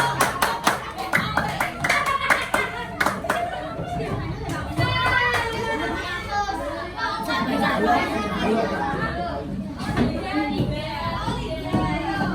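Schoolchildren in a fifth-grade classroom clapping together in a rhythmic group cheer, loud and close, with lively children's chatter and voices mixed throughout.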